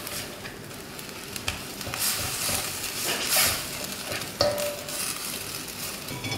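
Malaysian fried bihun siam rice noodles sizzle in a hot pan as they are stirred, a continuous close frying hiss with irregular scraping bursts and a brief clink partway through.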